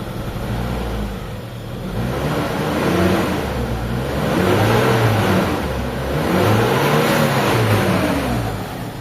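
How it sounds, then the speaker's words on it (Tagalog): A Mitsubishi Adventure engine that lacks pulling power, especially with the aircon on, revving repeatedly in slow rising and falling waves, loud and close, with no voices over it. "Start natin. Yan. Maandar na mga bossing. I-rev ko mga boss."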